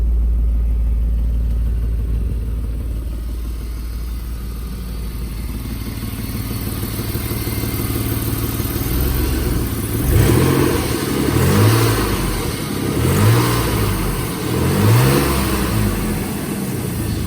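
A BMW E34 520i touring's engine idles with a rough, raspy exhaust tone through a worn muffler, then revs up several times in repeated bursts, sounding throaty and close.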